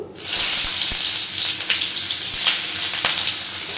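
Chopped onions fry loudly in a pan for a taro paste dish, a bright, dense sizzle starting abruptly and holding steady close up, with a few faint clicks.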